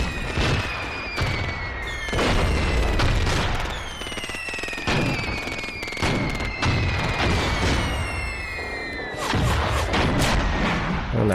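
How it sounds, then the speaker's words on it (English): Heavy artillery barrage in the Graviteam wartime tank game: repeated loud booms and sharp blasts in dense succession, with whistling incoming shells streaking overhead, a continuous thick bombardment with no talk. "And the artillery is really thick right now."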